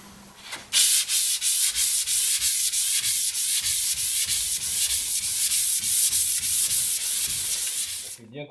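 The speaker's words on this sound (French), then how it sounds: "Donc je vais commencer à poncer." Steady back-and-forth sanding strokes on the roof of a Maserati Biturbo 4.24v during restoration, rhythmic and close, running continuously for several seconds with no talk.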